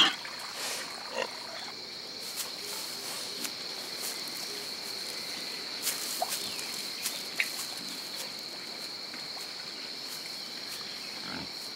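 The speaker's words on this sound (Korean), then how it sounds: "도망갔던 멧돼지가 다시 돌아왔다." Wild boar soaking in a mud wallow deep in mountain forest: faint intermittent splashes and snuffling against a steady high insect drone, with occasional soft thumps and rustles nearby.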